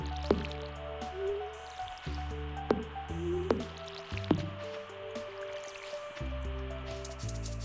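Watering can pouring onto crops in the farming video game Stardew Valley, a series of short wet drips and squishy splashes repeating in an uneven rhythm over a steady tonal background of game music.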